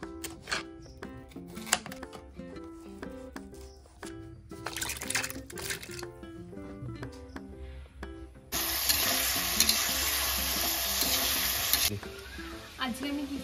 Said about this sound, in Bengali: রাইসের জন্য আমি এখানে গাজরগুলোকে সুন্দর করে ভেজে নিচ্ছি।